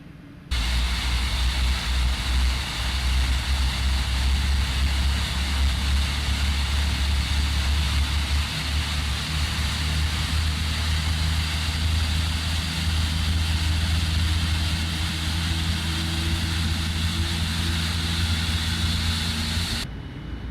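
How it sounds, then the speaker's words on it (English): A Boeing 787-9 engine spools up and runs in a flight simulator game, a steady loud hum with a low rumble and broadband whine that holds for about twenty seconds before cutting off. "Alright, number 2 is running, so we have 2 good engine starts."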